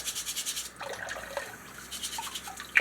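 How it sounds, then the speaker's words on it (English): Tap water trickles softly while a small vegetable brush scrubs freshly topped beets, giving a faint rhythmic bristly rubbing with light dripping. "I'm just letting it trickle just to wash the dirt. I got my little veggie brush here."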